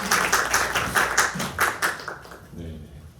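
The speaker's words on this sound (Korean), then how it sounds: "박수" A small indoor audience claps in a brisk, uneven run of separate claps for about two seconds, then the claps fade out and a voice murmurs.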